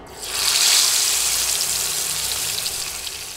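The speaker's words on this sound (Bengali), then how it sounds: "তেল গরম হলে এবার মাছের পিসগুলো দিয়ে দিচ্ছি।" Pieces of fish dropped into hot oil for a fish bhuna, giving a loud, steady broadband sizzle that swells after a short start and holds evenly to the end, with no talking.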